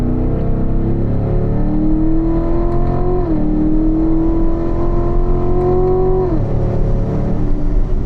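A race car accelerating hard out of a corner on a track, engine pitch climbing steadily through a gear with a brief dip at a shift, then rising again, loud and close in the cockpit, no talk.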